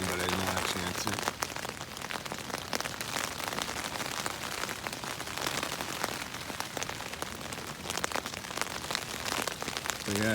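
Rain drums steadily on an REI Quarter Dome SL1 tent, a dense, even patter close overhead that continues without pause.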